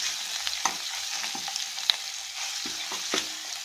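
A spoon stirs onions, turmeric, curry leaves and ginger-garlic paste frying in a pan for fish curry, with a steady soft sizzle broken by scraping clicks of the utensil, close and alone.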